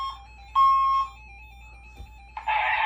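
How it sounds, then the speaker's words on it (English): Electronic beeping from a fire alarm panel in supervisory mode: steady high tones with a brief louder beep, then a burst of harsh buzzing at the end. "So you see it's supervisory. The panel is beeping."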